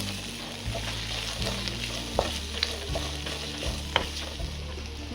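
Capsicum fries in a pan for baby corn Manchurian, a low steady sizzle with a couple of sharp clinks and stirring scrapes, heard alone without talking.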